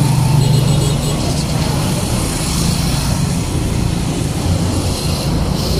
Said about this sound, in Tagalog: Sa bayan, napakadaming sasakyan.